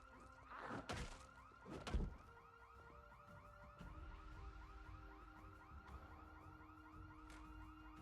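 A car alarm whoops in the video game Project Zomboid, a rapid repeating warble heard over thuds and knocks near the start, continuing steadily at moderate volume with no talking.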